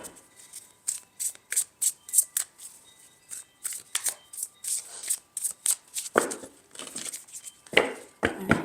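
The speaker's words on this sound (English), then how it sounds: "One more good shuffle." Tarot cards are shuffled repeatedly by hand, a rapid series of crisp riffling bursts in an uneven rhythm, close and fairly quiet, with no talking.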